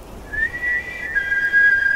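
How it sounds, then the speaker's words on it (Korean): A playful whistle is dubbed as a comic sound effect into a Korean film scene, heard as a short run of clear, close whistled notes that step upward. "감독이 더 재미있게 장난처럼 휘파람 소리를 넣었다고 합니다"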